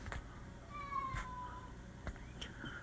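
A faint, thin meow-like wail drifts in from a distance over a quiet outdoor background.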